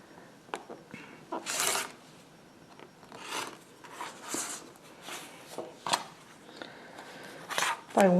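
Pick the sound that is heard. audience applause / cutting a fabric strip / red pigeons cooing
cutting a fabric strip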